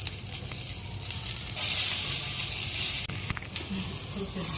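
A ground paste for a brinjal dish goes into a hot pan, and a sizzling hiss swells loudly for a moment, then settles into a quieter steady crackle with a faint clink.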